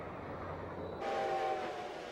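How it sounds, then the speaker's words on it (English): Model trains run on a large multi-level model railroad layout in a canyon scene, with a steady rumble, and a brief high horn or whistle tone followed by a louder rolling swell partway through. "Atlas Canyon, the next grand scene, features trains running on 8 different levels."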